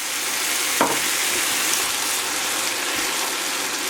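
Crushed tomatoes poured into a hot pan with onions, a steady broadband sizzle and frying hiss throughout, with a brief splashy pour near the start and a few soft stirring sounds.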